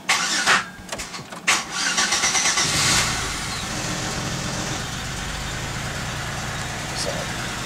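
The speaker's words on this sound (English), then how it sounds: "So now we're gonna start the vehicle up." A 2001 Chevy Impala with a 3.4L engine starts after a fuel pump replacement. It cranks with a few uneven bursts for about three seconds, then catches and settles into a steady, even idle.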